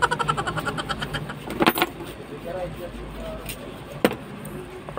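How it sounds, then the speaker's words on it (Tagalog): Keys jangle in rapid rhythmic bursts, close and clear, while an Isuzu NKR truck ignition key is being installed, followed by a few louder clinks and faint background noise. "Umpisa na natin pagkabit ng ating susi."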